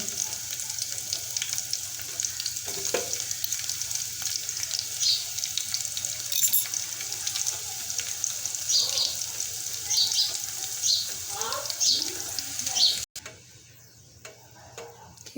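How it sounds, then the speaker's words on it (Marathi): A small piece of garlic frying in hot oil in a pan, a close, steady crackling sizzle with light ticking pops. It cuts off abruptly near the end, leaving a quieter hiss. "लसण खूप छान भाजल्या जात आहे तेल मस्तपैकी गरम झालेलं आहे"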